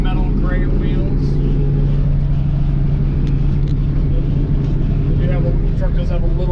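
A 1972 Chevy C10 pickup's engine runs with a steady, loud, deep rumble that holds evenly throughout while a person talks over it.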